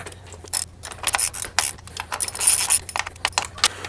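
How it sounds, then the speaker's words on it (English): A wrench tightens the top bolts on a Honda CRF300L skid plate with a flat washer and nylock nut, giving close, rapid ratchet clicks in short bursts along with metallic rattles and rubbing, loud and without talk. "we'll go ahead and tighten the top bolts here"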